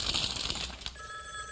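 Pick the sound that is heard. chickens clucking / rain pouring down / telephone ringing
telephone ringing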